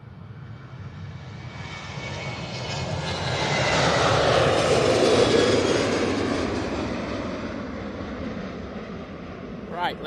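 An Emirates Airbus A380 at Manchester Airport, its engines building to a loud broadband roar that swells through the middle and slowly fades, heard alone without talk.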